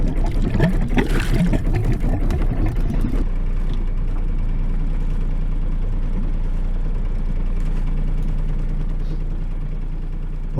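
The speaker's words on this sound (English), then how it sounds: "Sounds like water's coming out." Water splashing and gurgling from the outlet of a small sailboat's engine, a steady wet rush over the low idling drone, close and continuous throughout.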